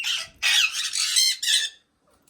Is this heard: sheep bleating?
no